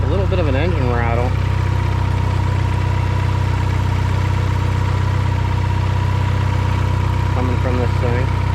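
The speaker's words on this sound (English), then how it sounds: "like a little bit of an engine rattle" Small engine idling with a steady low hum and faint mechanical rattle, heard close and continuous, with brief voices talking near the start and end; a project car with bad smoke from leaking valve seals.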